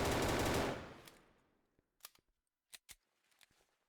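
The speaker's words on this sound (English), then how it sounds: "Okay, so hip firing" A custom machine gun is hip-fired in the NeoFPS shooter game: a dense rapid burst at the start tails off, then a few sharp isolated clicks and cracks follow in near silence.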